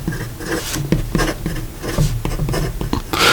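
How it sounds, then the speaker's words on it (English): A Diplomat Excellence A Plus fountain pen with a broad nib writing fast on paper, giving rapid, close scratchy strokes in an irregular rhythm with short pauses between words, ending in a brighter swish. "And then in reference to some fast writing"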